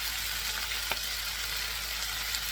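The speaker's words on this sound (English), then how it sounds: "Give them a quick stir." Garlic, ginger and ground dry chili stir-frying in a wok for Szechuan chicken, giving a steady, dense sizzle with a faint tap of the stirring utensil.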